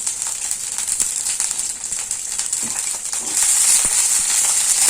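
Brinjals frying in hot oil: a bright, steady hiss that swells louder partway through, with occasional small pops and clinks close by and no voices.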